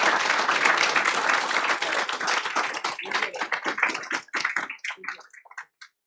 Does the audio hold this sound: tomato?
no